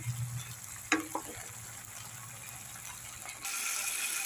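Dry ground spices frying in a pan for a mourola fish curry made without mustard paste: a faint clatter of stirring, then a steady, brighter sizzling hiss near the end.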